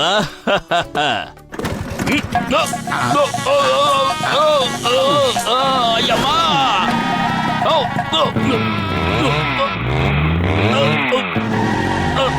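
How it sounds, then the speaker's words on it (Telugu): A cartoon motorbike revs out of control, engine whines rising and falling with screeching skids and cartoon effects, while characters talk over the racket. "ఈ బైక్ ని ఏం చేసి తగలంటారు? దీని స్పీడ్ పెరిగిపోతోంది."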